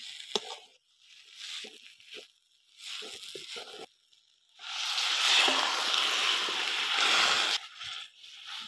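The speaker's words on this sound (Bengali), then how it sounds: "এবার আমি জল দিয়ে দেবো" Water poured into a pan of tilapia and potato fish curry, a sustained splashing, sloshing pour lasting a few seconds after scattered clinks and stirring sounds, close up.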